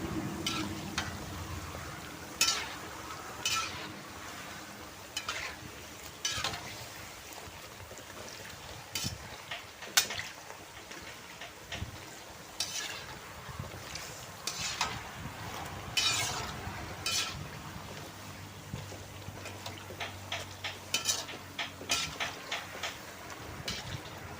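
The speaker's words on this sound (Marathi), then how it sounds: "तर या पुऱ्यांना तळायला टाकल्यावर असं दाब द्यायचा, म्हणजे त्या फुगणार नाही." Fenugreek puris frying in hot oil, a steady low sizzle and bubbling running throughout with scattered sharp clicks and taps of a utensil pressing them down, close and alone without talk.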